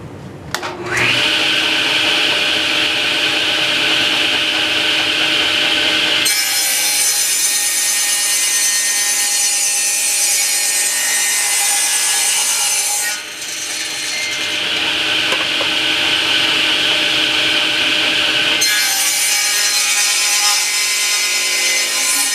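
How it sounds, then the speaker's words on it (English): A table saw rips through wood in a home wood shop, a loud, steady whine that runs continuously with two brief breaks between cuts. "So probably I'm going to use the table saw for this."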